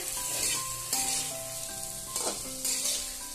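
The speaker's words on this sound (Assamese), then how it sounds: "অলপ সময় আলু আৰু গাজৰটো ভালকৈ ভাজি লওঁ" Potatoes and carrots fry in butter in a pan, giving a steady close sizzle with a few louder stirring surges, while soft tonal music runs underneath.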